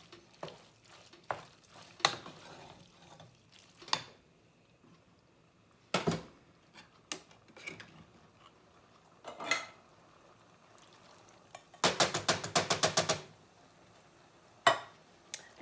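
Macaroni and tomato sauce goulash stirred in a pot, scattered spoon scrapes and clinks against the metal with a rapid burst of scraping strokes near the end, close and fairly quiet.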